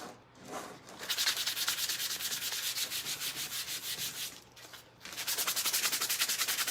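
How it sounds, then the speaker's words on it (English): Hand sanding on the back of a wooden piece, a steady rhythmic rasp of back-and-forth strokes, close and fairly loud, with a brief pause near the middle before it resumes. "sanding down a little bit."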